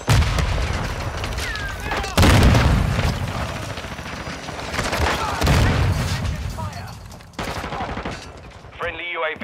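Semtex grenade blast in Modern Warfare 2, with heavy booms at intervals amid steady gunfire and battle noise, loud and close, while voices speak over the action.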